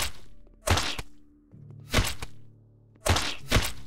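Punches landing in the sci-fi video game Interstellar Prime, sharp heavy thwacks in an uneven pattern: a single hit, then another, then a quick double, loud and close over a faint low game hum.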